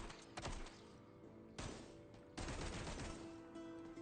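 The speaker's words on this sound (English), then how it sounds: "So this is just a barrage of bullets." A better gun in a video game unleashes bursts of rapid gunfire, three loud sharp volleys with brief gaps between them, the last one trailing into a ringing tail.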